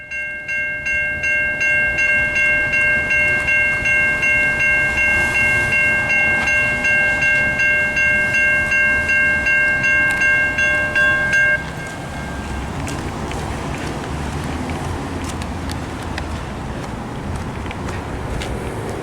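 A New Jersey Transit passenger train on the North Jersey Coast Line rolls by loudly with a steady rumble and a sustained two-tone horn that cuts off partway, leaving the continuing roar of wheels on rails.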